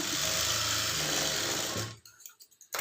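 A sewing machine stitches a blouse in a fast, continuous mechanical whir that stops suddenly, followed by a few short bursts of handling noise.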